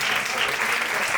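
Steady, dense applause from a studio audience at a Spanish comedy show, continuous and fairly loud throughout with no break.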